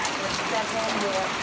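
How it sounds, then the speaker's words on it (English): Steady rain pours down in Southern California, a dense, continuous hiss with faint voiced tones murmuring underneath. "It's raining."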